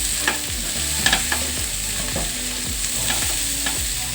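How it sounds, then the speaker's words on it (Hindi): Potatoes with garlic and green chillies fry in a pan with a steady low sizzle. A spatula scrapes and turns them in repeated rhythmic strokes close by, and no one speaks. "अभी हमारे आलू अच्छे से फ्राई नहीं हुए हैं, वे कच्चे हैं।"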